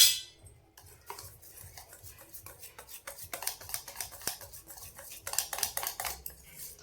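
Baking soda-laced batter for Bengali aloo chop being whisked in a bowl, a run of light, quick clinking and tapping strokes that grow busier toward the end, close and fairly soft, with no talking.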